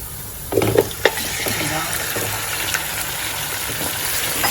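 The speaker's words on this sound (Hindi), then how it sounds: "अब इसमें हम मीट ऐड करते हैं।" Mutton goes into hot ghee in a karahi with a sudden burst of sizzling and a few clattering knocks, then settles into a steady frying hiss while someone speaks briefly.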